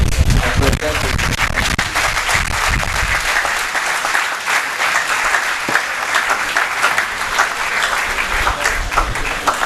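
A large lecture audience applauds steadily to welcome a professor giving an inaugural lecture, with dense, sustained clapping that holds near-constant loudness throughout.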